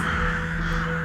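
A continuous, close, harsh cawing of crows, loud and unbroken for about a second.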